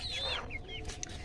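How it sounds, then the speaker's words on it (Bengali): Rooster on a small home farm clucking close by, a short run of throaty, wavering calls over a steady low background murmur. "এই যে মোরগটা,"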